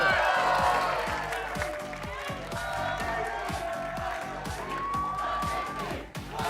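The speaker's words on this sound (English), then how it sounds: "Everybody here cheering for 100 Thieves" A Valorant esports arena crowd cheers and applauds for 100 Thieves, with loud clapping and shouts at first that ease into a steady murmur under a rhythmic musical beat.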